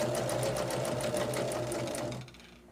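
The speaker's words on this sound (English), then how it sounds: "We'll stitch these together." A sewing machine stitches table runner pieces together in a rapid, even, close-up run that winds down and stops just before the end.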